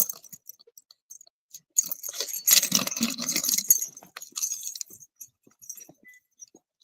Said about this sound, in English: How many keys you got? Sound like a janitor walking through there.